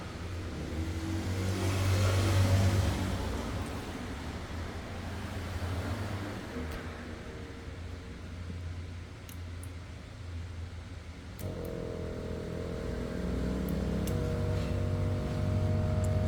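A car engine idles steadily during an emissions repair test for a failed exhaust inspection, with a low continuous rumble and hiss throughout, nearby, shifting slightly in tone partway through.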